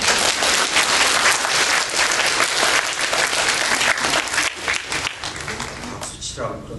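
A church congregation at Catholic Mass claps loudly and densely, the burst thinning out and fading toward the end.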